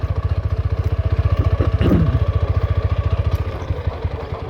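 A motorcycle idles close by in an open grassy field, with a steady, rapid, thumping putter that swells slightly midway and then settles again.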